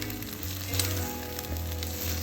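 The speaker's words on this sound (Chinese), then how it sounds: "我们用锅子的一边来煎个荷包蛋" An egg fries in one side of a pan still greasy from bacon, in the same pan later used to toast bread for a club sandwich. It gives a steady, close sizzle with small crackling spikes throughout and no talking.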